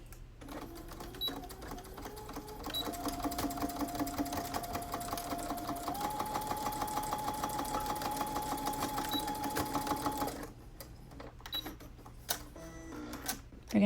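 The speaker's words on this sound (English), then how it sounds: "We're going to do the same step with the opposite side of the mask, top stitching the sides where the elastic is held twice." A sewing machine runs steadily for about ten seconds while top stitching the sides of a cloth face mask over bulky elastic, a fast even rattle that stops abruptly and leaves a few faint clicks afterward.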